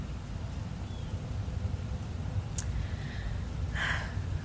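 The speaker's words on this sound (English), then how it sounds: "I also listened to the rain. And this is like the perfect kind of rain, in my opinion, where it's just coming down" Steady rain falls as an even, soft hiss and patter throughout, with a couple of faint brief background noises partway through.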